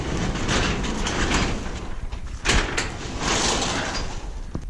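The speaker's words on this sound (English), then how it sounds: "I will open up the overhead door" An overhead garage door rolls open in a workshop, a loud, sustained rumbling and rattling with a brief clank partway through, close by and without talking.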